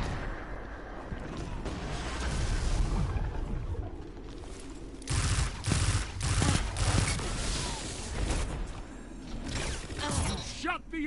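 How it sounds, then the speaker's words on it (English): Grenade launcher fire in the Destiny Crucible, repeated thumping blasts that cluster in a dense burst midway, under continuous game noise and effects. "You ain't even gotta be close with that grenade launcher."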